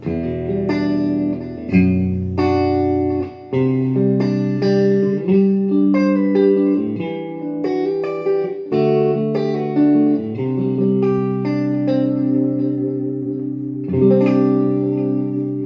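Clean electric guitar tone through a BOSS ME-25 multi-effects pedal, chords and single notes played alone with a glossy processed sheen and a touch of reverb, steady and fairly loud.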